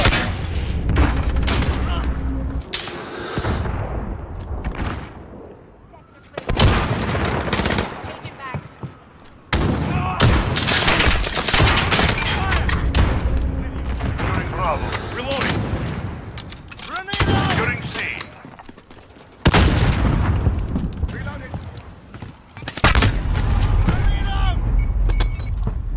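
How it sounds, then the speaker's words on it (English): Bursts of gunfire and grenade explosions in a shooter video game come in loud, dense waves separated by short lulls, with voices talking through parts of the action. "Grenade out! Enemy in the back."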